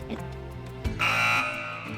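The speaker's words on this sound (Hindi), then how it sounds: "चलिए तो मैं बज़र्स एनेबल कर रहा हूँ।" An electronic quiz buzzer goes off during a Ramzan special religious quiz show, a loud sustained tone lasting about half a second that stands out over low background music.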